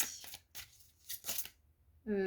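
Oracle cards being shuffled by hand in quick brushing bursts, soft and close, before a voice starts speaking at the end.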